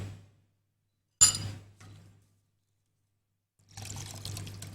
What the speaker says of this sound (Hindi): पानी आप नहीं शामिल करेंगे, आप रिवायत का मिल्क शामिल करेंगे इसमें